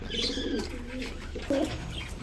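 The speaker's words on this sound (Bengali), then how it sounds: "এক জোড়া বোম্বাই কবুতর, সাদা কালার" A pair of white Bombay pigeons gives soft, short cooing calls, faint and close, with a couple of brief coos over a quiet background.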